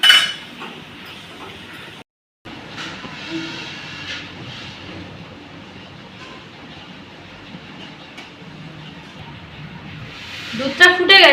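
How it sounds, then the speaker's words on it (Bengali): Warm milk mixed with powdered milk stirred in a pot, a steady scraping and clinking of a utensil against metal running throughout, with a brief gap and a louder clatter near the end, under a voice talking. "এই দুধটাই কিন্তু আমি এর মধ্যে দিয়ে গুলে নেব"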